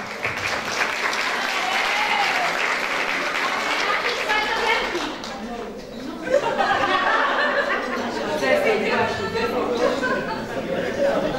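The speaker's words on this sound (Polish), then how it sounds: "Tym bardziej należą się bardzo duże brawa." Sustained audience applause for folk bands at a spring song festival, dense and steady throughout with background chatter and a few chuckles mixed in.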